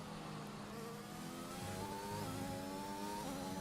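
A Williams Formula 1 car in the F1 2021 game screams through sector one at the Australia circuit, its engine note faint and distant, rising and shifting through gear changes against a steady hum.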